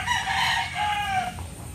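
A rooster crows by a flooded riverside hut in cold weather, one drawn-out call heard up close and clear with no talking over it.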